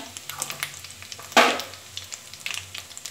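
Chili and asafoetida drop into hot oil while making sweet mango pickle, giving a sharp burst of sizzling spatter that fades into quieter crackling and stirring taps.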